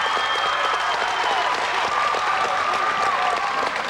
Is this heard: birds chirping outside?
no